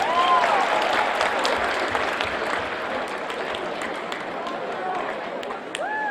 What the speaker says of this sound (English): give yourselves a round of applause and take a seat.